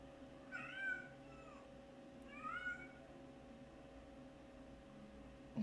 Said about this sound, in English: my roommate's cat is just meowing like really loudly